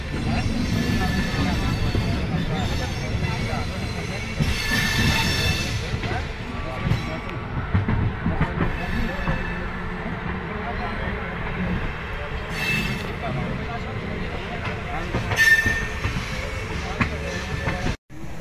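An Indian express train, the New Delhi to Ranchi Rajdhani, rumbles steadily and loudly close by, with continuous rail and wheel noise and occasional brief squeals throughout, while voices can be heard underneath.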